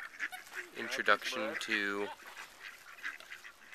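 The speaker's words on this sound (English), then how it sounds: "Gaggle of ducks." A group of ducks outdoors on a trail gives several loud, nasal honking quacks in a short burst, with quieter calls and a person speaking around them.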